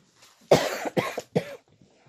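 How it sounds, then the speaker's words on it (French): Three harsh coughs in quick succession, close and loud, each a sharp burst followed by a short rasp, with near silence around them. "Je vais tousser."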